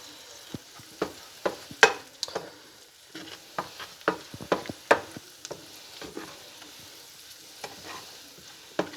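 Chicken and creamy risotto-style rice in a single skillet, stirred with repeated scraping strokes in an irregular rhythm over a steady, close sizzle.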